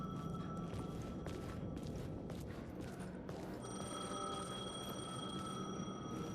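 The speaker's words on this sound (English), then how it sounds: "payphone was ringing." A payphone rings in the video game Alan Wake 2, a faint repeating electronic bell tone under a hissy ambient background, with light knocks or footsteps at the start.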